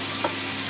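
Eggplant pieces frying in oil in a pan on an induction stove, a steady soft sizzle with a brief stirring scrape near the middle, close and continuous with no talking.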